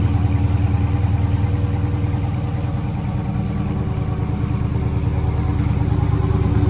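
A 2018 Dodge Charger Scat Pack idles with a deep, steady factory exhaust rumble, close and continuous throughout, no voices.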